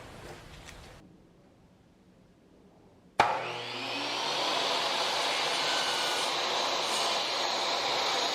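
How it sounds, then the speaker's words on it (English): A chop saw cuts through an old rusty brake rotor, trimming it into a circle for a planishing anvil; after a quiet start the steady, loud abrasive whine kicks in suddenly and runs continuously to the end. "take it over to the chop saw and clean it up and get that ready to round out."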